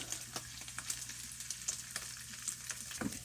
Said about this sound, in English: Stir up this meat a little bit more